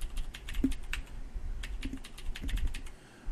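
Someone types a password on a computer keyboard, a run of quick, close key clicks in an irregular rhythm over about three seconds, with no talking.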